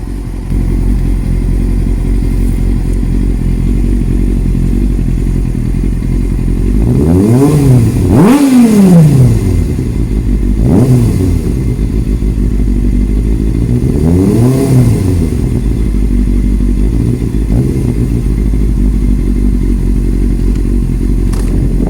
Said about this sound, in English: Just a quick small revving of the engine